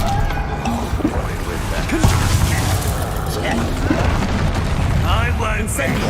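The Bombarda explosion spell in the video game Hogwarts Legacy, a dull booming blast over a continuous rumbling wash of battle noise, with brief swooshing spell effects scattered through.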